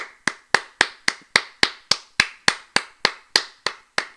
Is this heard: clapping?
yes